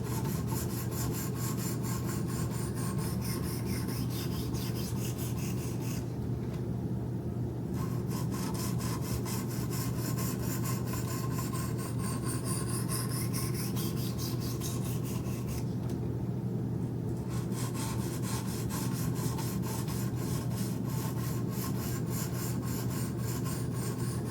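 Knife blade worked on Wicked Edge sharpening stones with steady up-and-down strokes, a continuous dry rasping scrape that repeats evenly, with two brief pauses in the motion.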